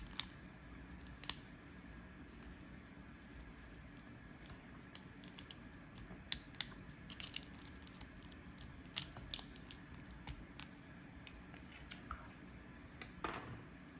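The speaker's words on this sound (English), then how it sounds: "We'll try it with a flat-bladed screwdriver." A flat-bladed screwdriver pries at a plastic Honda key fob to separate the metal key part from the shell. Small scattered clicks and scrapes come up close and quiet over a low background hiss, with no speech.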